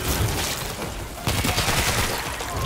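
Dense, continuous gunfire and blasts fill a World War Z Aftermath game battle, with shotgun shots buried in a loud, unbroken wall of noise.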